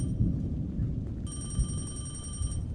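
A telephone rings inside a morgue in a horror video game, its bright electronic bell starting partway through and repeating steadily over a low background rumble.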